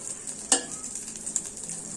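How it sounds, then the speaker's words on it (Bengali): About a teaspoon of ghee sizzling in a kadai for a homemade chicken pizza, a soft continuous hiss punctuated by a sharp metallic clink of a utensil against the pan and a lighter tap later. "এবার আমি এই কড়াইটার মধ্যে ঘি দিয়ে দিচ্ছি"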